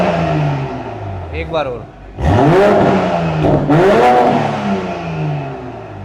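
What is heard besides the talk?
luxury car engine revving after a cold start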